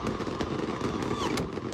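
Fireworks going off in footage being played back, a dense run of sharp crackling bangs and pops at close range over roughly two seconds, with a faint hiss and some voices underneath.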